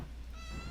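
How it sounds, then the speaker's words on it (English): A domestic cat waking from a nap gives a short, faint meow in a quiet room beneath low background hum. "If you guys hear meowing, that's just my cat waking up from a nap."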